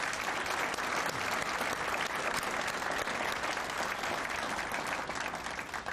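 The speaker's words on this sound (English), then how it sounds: "join me in applauding my wife Brenda, along with very supportive spouses gathered here" Loud, sustained audience applause at a sports hall of fame induction ceremony, dense clapping from a large crowd that holds steady throughout and eases off slightly at the end.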